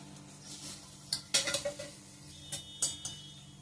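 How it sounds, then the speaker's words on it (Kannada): Washed ragi (finger millet) is dry-fried in a pan, heard as faint scraping and clinking of a utensil against the pan in scattered strokes, with a soft sizzle underneath. "ಇವಾಗ ನಾನು ಈ ತೊಳ್ಕೊಂಡ ರಾಗಿಯನ್ನು ನಾನು ಫ್ರೈ ಮಾಡಲಿಕ್ಕೆ ಹಾಕ್ತೀನಿ"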